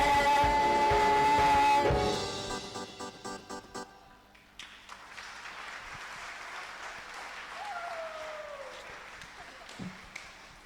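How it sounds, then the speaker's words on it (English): A church congregation claps for teenagers at a teens service: loud music and singing fade out, then scattered claps break into a brief round of applause, with a voice speaking near the end. "Let's give another clap for our teenagers."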